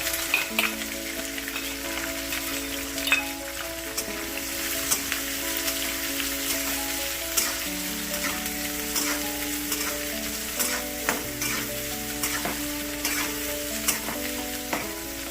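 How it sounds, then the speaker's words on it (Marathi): Chopped onion fries with peanuts in a hot kadhai for hotel-style masale bhaat, giving a steady close-up sizzle and crackle. Occasional stirring clicks break through now and then, and there is no talk. "आता ह्याच्यात आपल्याला कांदा टाकायचा आहे"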